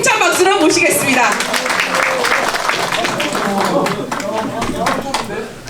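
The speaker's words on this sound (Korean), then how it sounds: "그 남한노 동지를 힘찬 박수로 모시겠습니다" An audience at a construction union officials' training gathering claps loudly to welcome a speaker, a dense sustained round of applause lasting several seconds, with voices calling out over it.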